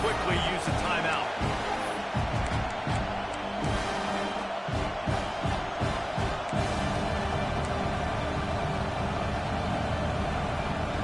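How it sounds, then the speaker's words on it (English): A loud football stadium crowd roars in a sustained wall of cheering and noise, trying to force a fourth down stop, with thumping bangs early on and a commentator talking over it. "This crowd busting the decibel meter and trying to will a fourth down stop."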